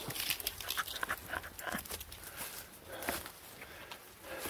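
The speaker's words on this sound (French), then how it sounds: "Lâchez pas les chiens." Dogs panting and snuffling close by, with light rustling footsteps moving through the scene; no one speaks.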